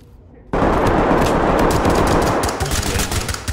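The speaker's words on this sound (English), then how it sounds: "The guy came down the hallway and I shot him." Automatic gunfire in the tactical shooter game Ready or Not, a loud sustained burst of rapid shots erupting suddenly after a quiet moment and continuing close and dense throughout.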